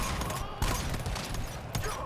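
Automated turrets open fire in the co-op shooter GTFO, a dense, sustained burst of rapid gunfire with a couple of sharper blasts, up close and loud, with voices briefly mixed in.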